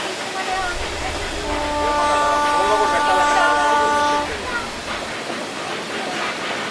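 A Nilgiri Mountain Railway train near Ooty rumbles steadily with a hissing, rushing roar, joined midway by a sustained harmonic whine or whistle; a voice talks over it.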